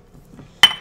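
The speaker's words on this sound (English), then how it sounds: "take one of these big brick ice cubes, or you can take regular ice cubes, whatever you got lying around. We're going to drop that in the glass" A big brick-shaped ice cube drops into a glass with a single sharp, bright clink and brief rattle, close and loud after near silence.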